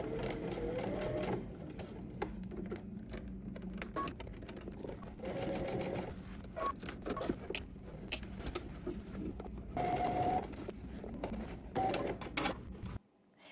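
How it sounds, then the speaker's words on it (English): A sewing machine stitches close to the edge of fabric for a garment, its motor whirring in bursts with brief pauses and small clicks and rattles, close and clear, stopping abruptly at the end. "now we're gonna head to the sewing machine and we're gonna stitch close to the edge"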